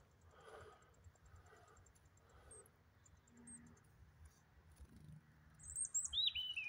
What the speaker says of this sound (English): Right, robins everywhere, one on my shed.